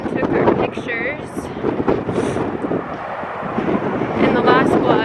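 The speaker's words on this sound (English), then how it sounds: "Today it's hot and windy, so it's a little bit more tolerable." Gusty wind on a hot day buffets the microphone in loud rumbling bursts while people talk nearby.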